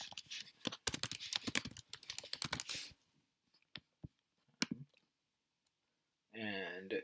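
Computer keyboard typing and mouse clicks: a quick run of close, crisp keystrokes for about three seconds, then a few isolated clicks, followed by a short burst of speech at the end.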